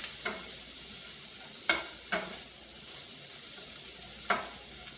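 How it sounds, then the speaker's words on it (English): Bacon and Brussels sprouts sizzling steadily in a pan, with four distinct scraping stirs from a utensil spread across the few seconds. "we're going to add the bacon back in. Give that a stir"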